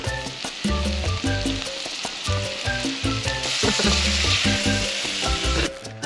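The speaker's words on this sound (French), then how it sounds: "bien chauffer le beurre" Butter sizzling in a hot pan while cooking sole on a road trip: a steady, loud crackling fry with bright, continuous spattering throughout.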